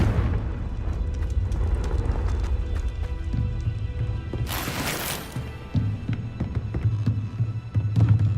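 A Confringo fire spell detonates in Hogwarts Legacy, a sudden broad whooshing blast bursting over a steady low game rumble, loud for about a second before fading back into the background hum.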